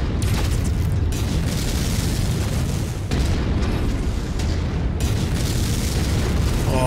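Heavy mech weapons fire in the video game Mechwarrior 5, a loud, continuous barrage of booming blasts and explosions with rumbling low end, broken by a couple of short dips, close and overwhelming.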